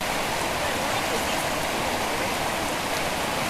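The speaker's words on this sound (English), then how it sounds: "Bev crosses Mattingly Creek" Mattingly Creek rushes steadily nearby as hikers wade across, a constant loud broadband flow of water with no break.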